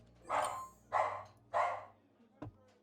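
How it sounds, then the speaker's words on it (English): Dog barking indoors during a board game session, three strong, evenly spaced barks followed by a short, weaker yip, fairly close. "I'm sorry for my dog. I don't know why he's so"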